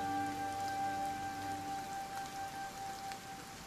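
Steady rain patters on a surface in a film scene, a constant close hiss with a few faint tonal hums running beneath it.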